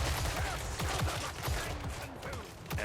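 Hand gunners firing a volley in Total War: Warhammer III, a rapid ragged burst of gunshots with low thumps over game battle noise, a voice shouting the unit name at the start.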